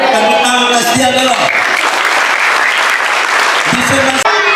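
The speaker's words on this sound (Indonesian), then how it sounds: "Tepuk tangan kasih dia dulu." Audience applause from a crowd at a community gathering in Sabu Raijua, a dense burst of clapping that swells and holds throughout, with a voice speaking over the start and end.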